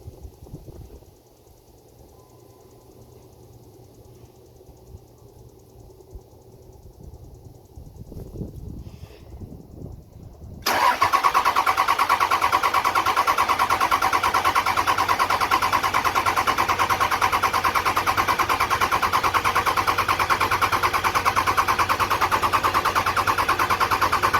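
A 2003 Dodge Cummins diesel truck with a hard-starting fault cranks quietly with faint rattles for several seconds, then abruptly catches into a loud, steady diesel idle that drones on close by.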